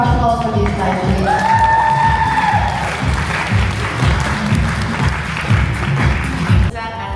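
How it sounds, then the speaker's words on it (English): Crowd at a women-in-business event applauding and cheering for presenters, loud sustained clapping with whoops over a thumping music beat, voices mixed in. "Round of applause for these guys, please."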